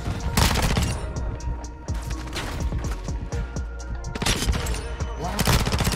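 Rapid automatic bursts from the PSDW 528 in Modern Warfare 2, loud close rattling gunfire in dense volleys with a short lull midway before firing resumes hard.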